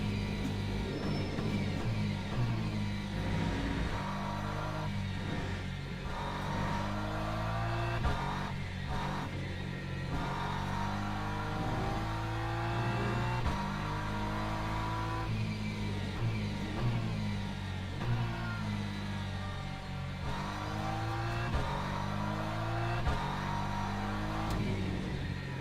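Porsche race car in Le Mans Ultimate at Spa, its engine revving continuously with repeated rising and falling sweeps through the gears, loud and close throughout, no talking.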